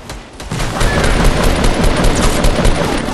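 Fortnite gunfire as a nonstop rattling spray of rapid shots, loud and close, kicking in after a brief quieter start and holding steady to the end.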